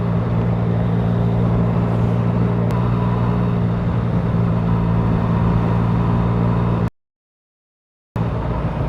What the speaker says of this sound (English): was that a Ferrari going the other way then?